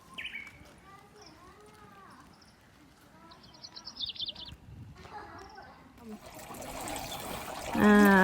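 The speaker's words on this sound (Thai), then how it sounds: "ล้างมือ ตักน้ ำล้างซ้าย ล้างขวา" Water is scooped and poured over the hands at a Japanese shrine purification basin near Kawaguchiko, trickling and splashing softly, then pouring more heavily near the end, with birds chirping and voices nearby.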